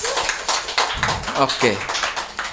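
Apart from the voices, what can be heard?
audience applause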